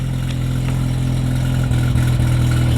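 A factory manual Mazda RX-7 with a single turbo rotary engine idles close by, a steady low throbbing drone with a slightly lumpy pulse and no voices over it.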